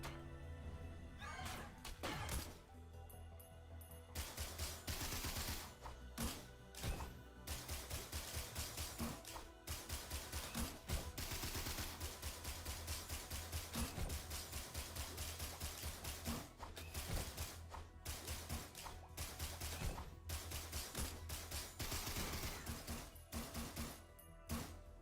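Rapid bursts of video game weapon fire crackle loudly and almost continuously, with dense clattering shots and brief pauses between volleys, and no talking.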